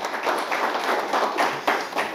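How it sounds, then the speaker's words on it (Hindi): An audience at a business talk on social media claps together, a dense continuous patter of handclaps at moderate volume, heard alone without voices. "तो एक बार जोरदार तालियां हो जाए टॉपिक के लिए।"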